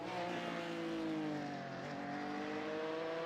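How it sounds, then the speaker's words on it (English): A Porsche Cup race car engine in a racing video game at Zandvoort holds a steady, high tonal drone heading into turn one, with pitch gently sliding as the car slows, no voices. "I just want to listen to Hammer's engine into T1"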